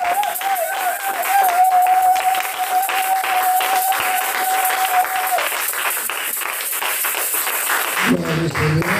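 Church congregation applauding and cheering during worship, a dense steady wash of clapping across the whole span with a sustained tone and voices mixed in, ending in a brief burst of louder, close sound.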